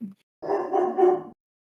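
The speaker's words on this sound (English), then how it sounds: "Silver The dog agrees." A dog gives a single drawn-out bark or whining yowl, close and loud, preceded by a brief short yip, with silence around it.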